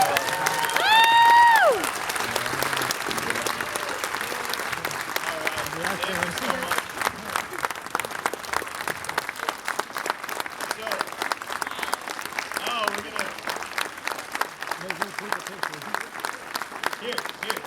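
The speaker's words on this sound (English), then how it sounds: "Give these guys a huge round of applause." An audience applauds after a film Q&A at an Alamo Drafthouse cinema screening of Dawn of the Dead, opening with a brief whoop or whistle, then a long, steady round of dense clapping from a crowd.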